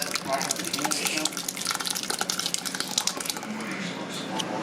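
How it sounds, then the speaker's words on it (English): Tomato sauce for goulash coming to a boil in a pot, a steady wet bubbling and popping close by, with people talking over it. "What that tomato sauce is doing is it's getting a little boil to it."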